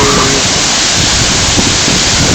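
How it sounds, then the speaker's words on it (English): Big waterfall roughly 148 feet tall, a loud, steady broadband roar of falling water that fills the whole stretch without letup, close and dominant. "That's a big waterfall."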